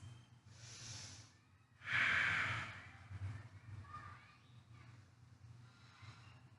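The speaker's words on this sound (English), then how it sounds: "And just taking like 10 deep breaths here" Deep breaths drawn and released during a slow yoga hip stretch, one strong audible exhale in the middle and softer breathing around it, heard close over a low steady room hum.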